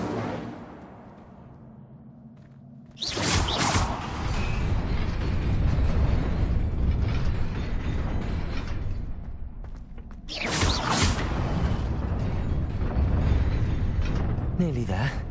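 A fire spell is cast in a PS4 video game, a loud roaring blast of flame that bursts in suddenly and sustains, then a second fiery burst follows, with a voice speaking around it.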